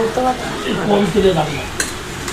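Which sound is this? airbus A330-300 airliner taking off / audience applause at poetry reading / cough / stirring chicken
stirring chicken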